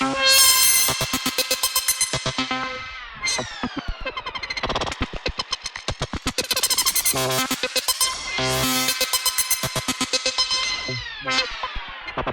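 A BLEASS Megalit wavetable synthesizer plays a single sustained note with the reverb modulated, producing a rhythmic, pulsing stream of bright, buzzy harmonics that swells and stutters repeatedly, loud and alone without talk.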